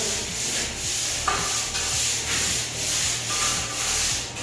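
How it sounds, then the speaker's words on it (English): A wood float smoothing fresh mortar on a tiled wall float, rhythmic rough rubbing strokes, about one per half second, close and steady. "this is a good time for your wood float. Come in here, just try to smooth this down"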